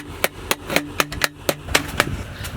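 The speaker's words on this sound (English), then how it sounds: "What are you hammering?" A hammer strikes metal to straighten it, about a dozen sharp close clanks in a fairly steady rhythm roughly every quarter second, with brief ringing after each blow.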